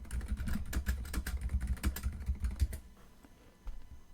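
Quick, close bursts of computer keyboard typing, entering a Google search, with a rapid run of keystrokes that stops short, followed by a pause and one final tap.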